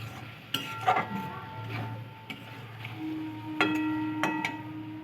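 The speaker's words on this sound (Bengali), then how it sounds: "চিংড়ি মাছটাকে মশলার সঙ্গে একটু কষিয়ে নেব দু এক মিনিট" Prawns being sautéed and stirred with spices in a pan for a tomato and coriander prawn curry, with a faint sizzle under repeated metallic clinks and taps of a spoon against the pan.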